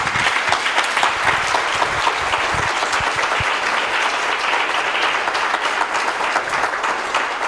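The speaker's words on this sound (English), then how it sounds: "Give him a mighty, mighty hand clap." A church congregation claps and applauds at a Sunday service, a dense, loud, sustained wash of many hands clapping together without letup.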